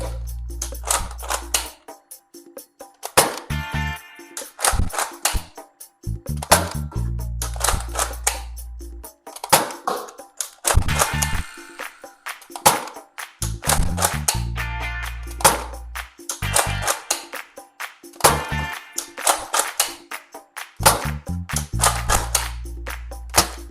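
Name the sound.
Adventure Force Arsenal X toy dart rifle firing test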